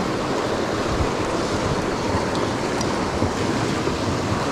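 Rushing high water of Alberta's Crowsnest River, a steady broadband roar of current close by, with a faint wind-like hiss and no talking.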